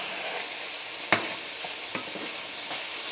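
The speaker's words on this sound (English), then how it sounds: "So we're going to keep sauteing." Meat sautéing in a pan: a soft steady sizzle with a couple of sharp clicks of a utensil stirring against the pan, fairly quiet and without talk.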